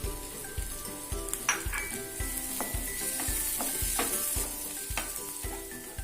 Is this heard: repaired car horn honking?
no